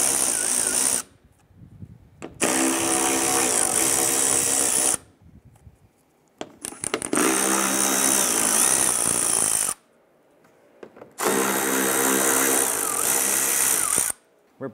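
Power tool driving a 10 mm socket to remove bumper bolts on a 2012-2017 Toyota Camry: three loud whirring bursts of a few seconds each, separated by quiet pauses, close up and alone.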